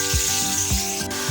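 Karela (bitter gourd) masala frying in a pan, a steady broadband sizzle with soft periodic low thumps, close and alone with no talk.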